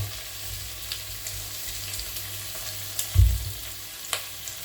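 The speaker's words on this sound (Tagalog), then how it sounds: "pwede na po natin ilagay yung ating isda" Pieces of fish slid into a hot pan for a Filipino coconut-milk fish dish, sizzling and crackling steadily, with a louder burst as one piece drops in and lighter spatters after, no talking.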